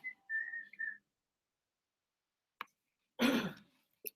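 Several short, clear whistled tones, like a phone alert, sound close by at the start, followed after a pause by a brief cough or throat-clearing noise.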